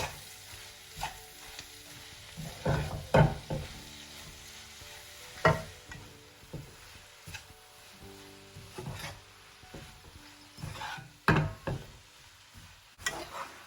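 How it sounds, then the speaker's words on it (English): Spinach is stirred into frying onions in a pan, a soft continuous sizzle broken by repeated scraping spoon strokes and knocks against the pan, close and uneven in rhythm. "So all of this spinach goes into the onions. Just a quick mix."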